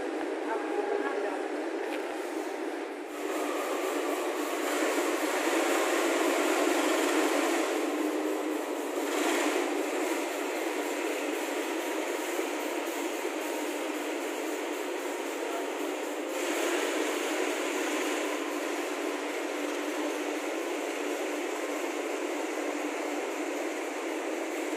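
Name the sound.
Jayakarta train set being shunted by CC 201 locomotive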